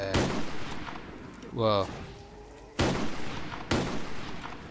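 WA-2000 sniper rifle shots in a Call of Duty style game, a few loud, sharp single reports spaced about a second apart, with someone speaking briefly between them.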